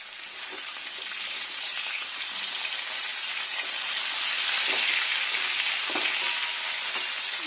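Vegetables fry in a pan for a vegetarian torkari, a steady, loud broadband sizzle that continues unbroken throughout, with occasional faint stirring scrapes and no voices.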